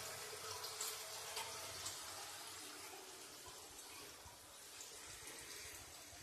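Water pouring steadily from a single village fountain in Osenovo, Varna region, a continuous soft rushing splash heard at low level with no voices.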